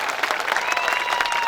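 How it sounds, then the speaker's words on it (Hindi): Crowd applause welcoming MLA Rajkumar at a public event honouring the warrior Kaniyaji, loud dense clapping with a sustained tone running beneath it, brief. "जोरदार तालियों से स्वागत किया जाए।"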